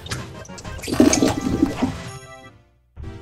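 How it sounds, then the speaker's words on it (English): A toilet flushes in a Kaizo Mario 64 speedrun stream, a loud rushing gush of water for about two seconds that tapers into a fading trickle, breaks off into silence, then returns briefly. "Was that Raven flushing a toilet?"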